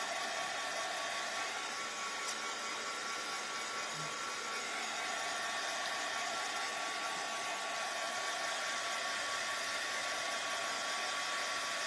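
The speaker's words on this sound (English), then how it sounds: "I gotta dry this so I can flip it over." A hair dryer drying a wood craft sign: a steady, loud blowing whir runs unbroken for the whole stretch, close to the microphone, with no talking.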